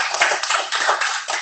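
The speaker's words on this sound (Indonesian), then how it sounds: "Yang Tuhan cintai, kasih tepuk tangan." A church congregation breaks into brief applause, a dense burst of hand clapping lasting about a second and a half, fairly loud and without talk.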